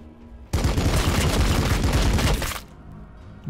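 Heavy massed weapons fire from Warhammer 40,000: Battlesector, a dense two-second barrage of overlapping gunshots and bursts that starts abruptly, holds loud and steady, then cuts off into quieter battlefield ambience.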